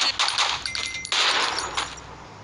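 Suppressed pistol shots in the mobile shooter Bullet Force crack out in a quick irregular burst of sharp, bright clicks and thuds, close and fairly loud, with no talking.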